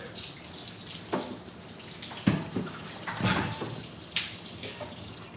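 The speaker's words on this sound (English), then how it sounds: "And now I'm going to go ahead and get this a quick rinse really quick." Food being rinsed under a running tap, with a broad steady gush of water and several splashing bursts and clatters as the food is moved in the stream.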